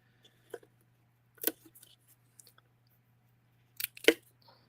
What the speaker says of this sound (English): then a pair of scissors